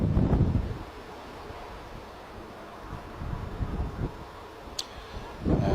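Wind buffeting a covered outdoor microphone at Bristol Airport, low rumbling gusts that swell and fade across the clip with a faint background hiss.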